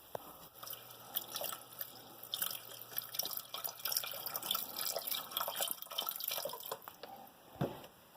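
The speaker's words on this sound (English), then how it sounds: "And then you're going to add 3/4 of a box of Swanson beef broth." Swanson beef broth is poured into a browning roux for venison meatloaf gravy, a soft, irregular trickling and dripping of liquid heard close and quiet, with no talking.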